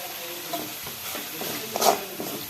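Masala for girmit being stirred with added salt in a pan, a soft scraping and shuffling close by with a brief louder scrape near the end, over a faint background hiss.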